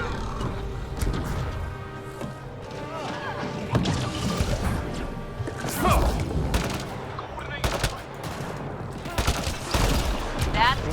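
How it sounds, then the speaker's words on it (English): A burst gun fires in the Mass Effect video game, with dense rapid volleys of gunfire, thuds and impacts mixed with game music and effects, while voices talk over the action. "dit is een burst gun"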